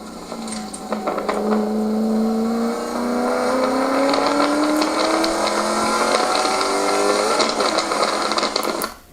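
A Ford Mustang engine on a race track at Apex Motor Club, a loud continuous in-car drone that holds its pitch, then rises steadily in a long climb while the car drops through gears into a corner.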